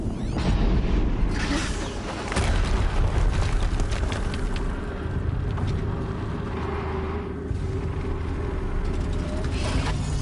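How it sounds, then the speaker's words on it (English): Explosions in the game Horizon Zero Dawn rumble as a dense, continuous roar of blasts and crackling debris, loud and sustained, with heavy low booms running throughout. "Another explosion."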